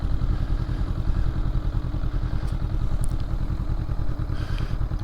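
A 2023 Honda SCL500 scrambler makes slow turns in a parking lot, its engine chugging at low revs with a loud, steady throb and some mechanical clatter, close by and alone.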